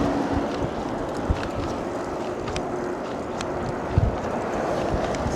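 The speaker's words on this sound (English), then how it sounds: "It's got a little minor gust of wind there." Wind buffets the microphone during a pedal-assist e-bike ride along a road, a loud, constant low rumble. A couple of brief thumps from gusts stand out, and no voice is heard.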